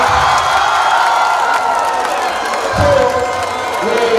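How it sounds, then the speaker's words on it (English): An audience at a university convocation theatre play claps and cheers loudly, a dense crowd roar with shouts and clapping throughout. "We have clapped for him"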